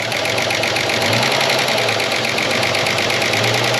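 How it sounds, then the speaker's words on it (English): The engine of a 30-year-old Ford Falcon, just revived after sitting in a paddock, runs steadily and loudly up close with a fast mechanical ticking and clatter over a dense idle roar. "There's another little ticking noise creeping in there too."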